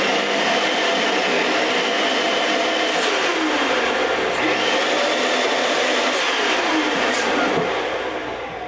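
An electric balloon inflator runs continuously at close range, a loud, dense whirring blower noise with faint pitch wobbles throughout, easing slightly at the very end.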